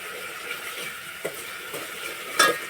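Chopped onions sizzle softly in a pan for Maggi noodles in a village setting, under a steady hiss with a few scraping stirs and a sharper utensil clink near the end.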